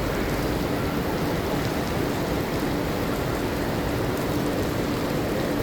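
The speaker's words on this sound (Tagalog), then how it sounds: "Heavy rain." Heavy rain falls on a rainy day, making a dense, loud and continuous rushing hiss that stays steady throughout, with no pauses or breaks.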